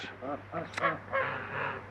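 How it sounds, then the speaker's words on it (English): A few short nasal quacks and honks from ducks close by, scattered across a couple of seconds with a faint background hum. "I found the 2 ducks"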